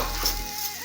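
Rice mixture stirred in a pan, a brief, loud close scrape and sizzle lasting under a second.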